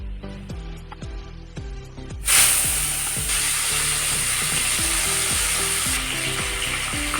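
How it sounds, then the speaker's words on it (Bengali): Singhi fish frying in oil in a wok, starting with rhythmic stirring knocks and scrapes, then bursting into a loud, steady, hissing sizzle that continues close up to the end, with no speech. "মাছটা ভাজা হয়ে গেছে বেশি ভাজবো না হালকা করে ভেজে নিলাম"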